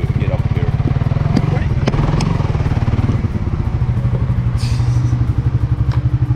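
A motorcycle in the Philippines runs close by, its engine chugging with a steady rapid pulse and rising in pitch as it accelerates up a slope. Wind buffets the rider.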